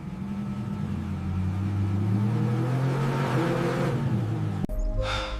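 A V8 engine revs hard and loud, its rising tone building over several seconds before cutting off sharply near the end, followed by a brief higher mechanical whine.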